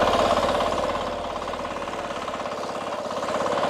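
A rotary tiller engine revs hard in second gear while its tines churn soil, giving a loud continuous rattling drone with a fast chattering pulse that eases slightly then builds again, with no voices.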